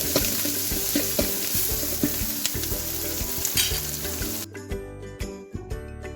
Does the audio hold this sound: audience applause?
no